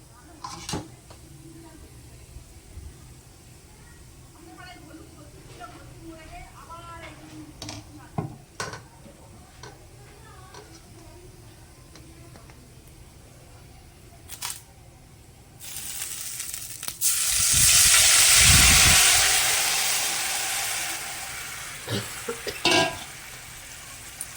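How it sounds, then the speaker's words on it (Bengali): Poppy-mustard paste with turmeric and green chilli poured into hot oil with a nigella-seed tempering: light stirring clinks and sizzle at first, then a loud burst of sizzling that swells for several seconds before settling, close by. "এই কালো জিরে ফোড়নের ভেতরে এই পেস্টটা আমি ঢেলে দেবো"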